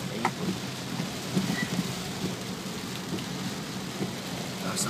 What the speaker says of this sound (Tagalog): Tapos ang ulan.